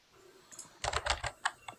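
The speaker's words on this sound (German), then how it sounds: "Wer, wer tippt denn jetzt in die Tastatur rein?" Someone types on a computer keyboard nearby, a short burst of quick irregular key clicks after a brief quiet pause, heard alone without talk.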